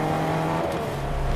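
Car driving in the Fortnite video game, a loud, sustained engine drone with a shifting pitch, close and continuous across the moment, with no talking.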